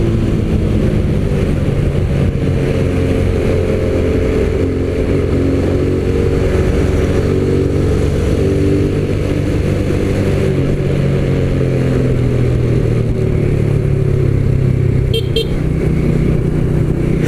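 A motorcycle engine with a baffle fitted in its exhaust idles and revs continuously up close, a deep rumbling exhaust with a muffled, throaty tone and no talking.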